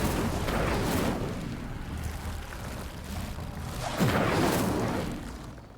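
Incendio fire spells cast in the game Hogwarts Legacy roar in broad, rushing whooshes that swell, ease and surge again, loud and continuous throughout, with no voices.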